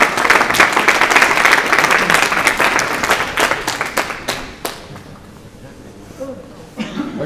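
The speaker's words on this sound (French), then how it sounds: "On va l'applaudir, on va l'applaudir." Outdoor crowd at a city-centre bike lane inauguration in Metz applauds the mayor, dense sustained clapping that thins out and fades toward the end, with a little speech underneath.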